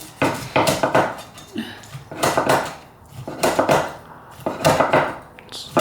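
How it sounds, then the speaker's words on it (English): Knife cutting through the crackling skin of air-fried pork belly, a series of four or five crisp crunching bursts in a steady rhythm, loud and close with a board knock under each cut. "You hear that crispiness on the skin?"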